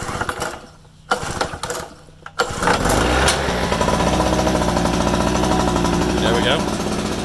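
A Harbor Freight 800 watt portable generator starting after a few pull attempts, then running with a loud, steady, close engine drone and a continuous rattling buzz.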